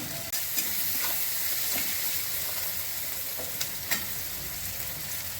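Chopped onions fry in a pan with salt, turmeric and grated ginger for a spicy pabda fish curry, giving a continuous close sizzle with occasional stirring scrapes and pops.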